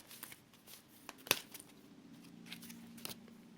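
Oracle cards are handled and drawn, with soft papery slides and flicks and one sharp snap near the middle, close and quiet, and no speech.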